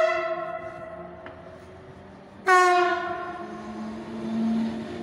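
A passenger train at Maison Alfort station on the RER D line sounds its horn in long tonal blasts, one fading and another sharper, louder blast halfway through, over a rumbling passing train.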